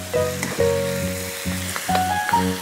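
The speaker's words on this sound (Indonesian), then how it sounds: "Kita aduk sayurnya supaya dia rata dengan sayur-sayurannya ya." Vegetables for capcay stir-fried in a hot pan, a loud, close, continuous sizzle broken by repeated stirring scrapes and clatter of the utensil against the pan, with no voices.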